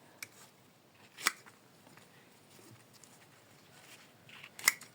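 Scissors snip hydrangea cuttings and trim off large leaves, giving a few sharp, close, quiet clips spread through an otherwise hushed moment.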